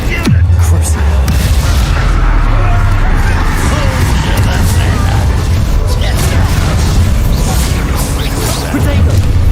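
Bombarda spell explosions in Hogwarts Legacy, a heavy opening boom followed by sustained loud rumbling combat noise, with a voice speaking over the fight.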